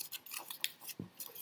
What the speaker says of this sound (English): open your scissors all the way, slide the cardboard in as far as it will go